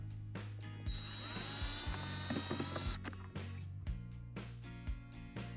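A screw is backed out of the sun visor mount in a Mercedes W124 interior, with rapid ratchet clicks and metallic turning noises close up, pausing briefly between bursts, no talking.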